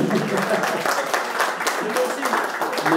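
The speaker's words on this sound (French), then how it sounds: "je vous demande d'applaudir à nouveau Patrick Ollier" An audience at a Les Républicains public meeting in Rueil-Malmaison applauds, a moderate, somewhat thin round of clapping with voices and murmurs mixed in throughout.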